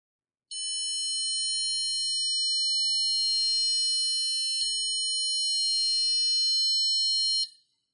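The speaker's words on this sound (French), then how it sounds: "Donc ça marche, on a bien entendu le buzzer." A piezo buzzer driven by an Arduino, inside a six-LED electronic hourglass, sounds a continuous, piercing electronic beep for about seven seconds. The tone briefly glitches near the middle and then cuts off, with no speech.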